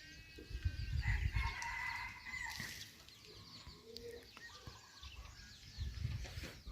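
Chickens cluck and a rooster crows amid other birdsong outdoors in a rural Lao village, moderately distant, with low rumbling background noise.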